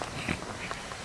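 Footsteps of a person walking outdoors, a few soft irregular steps over about a second, close and fairly quiet.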